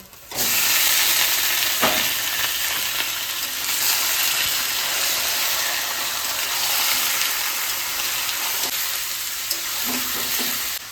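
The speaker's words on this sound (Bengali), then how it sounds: "আমি এখন একটু ভাজা ভাজা করবো একটু পরে নুন হলুদ মশলা দেবো" Goat meat frying with onions in a pan, with a steady broadband sizzle throughout and repeated scraping of a spoon stirring it, close and loud with no talk.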